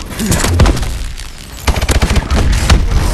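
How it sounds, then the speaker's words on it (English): Friendly bombing run explosions from the Call of Duty: Advanced Warfare Exo Survival mode, with rapid heavy booms and crackling gunfire-like blasts rolling continuously, loud and close, and briefly easing before a fresh dense volley. "Friendly bombing run clearing the way."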